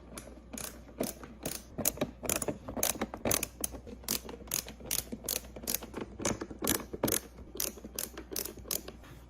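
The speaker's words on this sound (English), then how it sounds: "You are gonna need a screwdriver for this next step" A screwdriver drives screws into a Graco Blossom 6-in-1 convertible high chair, making a close, rhythmic series of sharp ratcheting clicks in quick bursts with brief pauses between turns.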